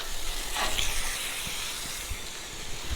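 A steady hiss of water spray rinses a surface during RV chores, broad and continuous at moderate loudness, with a few faint low knocks and thumps under it.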